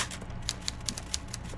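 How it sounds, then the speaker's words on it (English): Keys strike in a steady rhythm on a typewriter inside the Disco Elysium video game, roughly eight crisp clacks over a quiet, dim room tone, moderately close with no voices. "I think I hear someone typing though"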